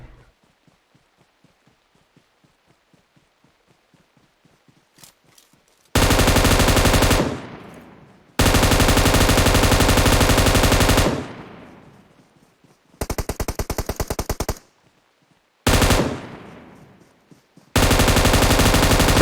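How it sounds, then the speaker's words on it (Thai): Automatic gunfire in PUBG Mobile, with long, loud, continuous machine-gun bursts that start and stop abruptly, separated by near-silent gaps and faint, rapid ticking. "เสียงปืนข้างหน้า"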